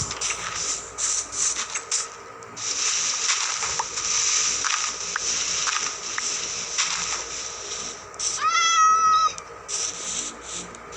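A kitten gives a single clear, rising-and-falling meow near the end, heard over steady hissy background noise with scattered clicks and knocks.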